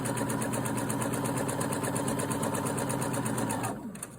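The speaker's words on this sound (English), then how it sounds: "I'm stitching about 1/4 inch away from the edge." A sewing machine stitches fabric for a bonnet, running at a fast, steady mechanical chatter close up and fairly loud, then slowing and stopping just before the end.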